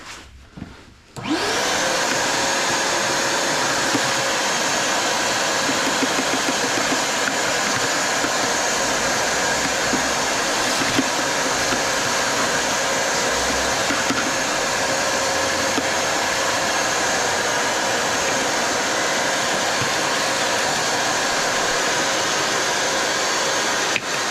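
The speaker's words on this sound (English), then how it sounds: "Let's vacuum this junk off of this so that we can not have it blowing around in our air." A Dyson DC25 vacuum cleaner switches on with a sharp rise and then runs at a loud, steady whine without pause.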